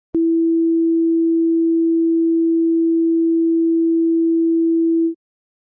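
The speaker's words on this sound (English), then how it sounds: "you heard an E note, that is a note for the 330 hertz" A pure sine wave tone at the E note of 330 hertz plays as a single steady, clean pitch. It starts abruptly, holds at constant loudness for about five seconds, and stops with no other sound around it.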